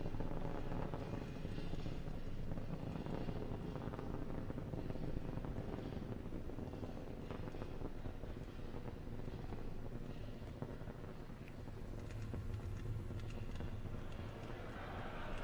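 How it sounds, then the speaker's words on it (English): A Falcon rocket carrying a Dragon capsule climbs through the atmosphere during the CRS-11 launch, giving a continuous low, rough rumble that holds steady and loud for the whole stretch, blurred by wind-like noise. "the rumble is still audible as Falcon and Dragon ascend through the atmosphere"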